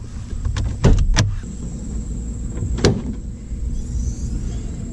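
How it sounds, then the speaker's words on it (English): Hood release and latch work on a 2010-2014 V6 Camaro, a few sharp mechanical clicks and clunks close by, with a steady hum in the background. "First thing we're going to do is pop the hood."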